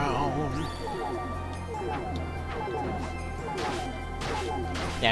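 Boss fight in a Mana series video game, with repeated crashing explosion bursts and whooshing effects under a musical score and continuous talking over the top.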